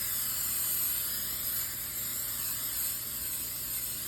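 A steady, fairly quiet hiss of an aerosol cooking spray continues for several seconds without pause, with no speech.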